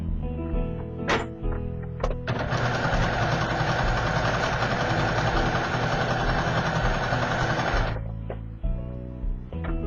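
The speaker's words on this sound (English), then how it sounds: "And just keep sewing and stretching." Sewing machine running steadily for about five seconds while stitching a stretched lettuce edge finish on fabric, with brief starts and stops before and after the continuous loud whir.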